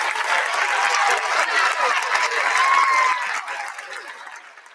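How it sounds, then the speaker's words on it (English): A crowd applauds steadily for several seconds at a university convocation, dense clapping that gradually fades out toward the end. "Let's give them a round of applause."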